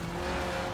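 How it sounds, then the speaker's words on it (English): A Lotus Elise with a 1.8-litre engine revving to 8,000 RPM drifts in Forza Horizon 4, a brief, loud, continuous tire squeal blended with engine noise. "The honourable art of drifting."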